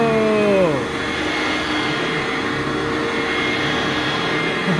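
A vintage vacuum cleaner that needs a new belt whines at a high pitch that slides down as the motor settles. It then keeps running with a steady, loud airy roar.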